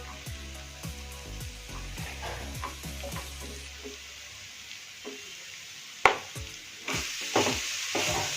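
Masala and radish-and-leaf paste frying in a pan over a lowered gas flame, giving a steady close sizzle with repeated stirring scrapes and clinks throughout, and a sharper utensil knock near the end.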